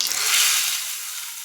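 Hot oil tempered with cumin seeds and a green chilli is poured over millet dosa batter, a loud close hiss that fades gradually over about a second and a half, with no voices.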